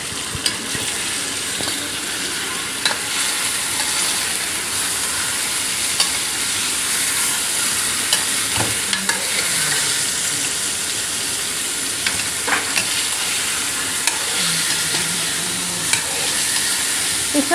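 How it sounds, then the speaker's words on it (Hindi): Chicken sizzles steadily in a cooking pot for chicken malai handi, with a continuous hiss of frying and occasional scraping clinks of a spoon stirring through it, close and even throughout. "अब गोश्त हम इतनी देर पकाएंगे कि गोश्त का कलर चेंज होने को आ जाए।"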